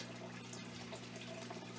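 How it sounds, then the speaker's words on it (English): Aquarium water siphoned out of a tank into a bucket during routine tank maintenance, giving a steady, close, continuous watery rush with no talk. "And then the 3rd bucket, I just siphon out the water."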